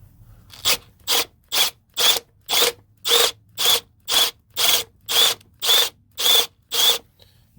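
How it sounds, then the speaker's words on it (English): A hammer drill boring into a pipe whirs in about a dozen short, evenly spaced bursts, each a second or less, close by with brief pauses between. "It's best to have the drill on hammer."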